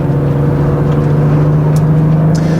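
Steady engine drone of cars on a hot lap on a race track, heard from the side of a BMW 3-Series (330i M Sport / M340i) drive, with a continuous hum and no talking.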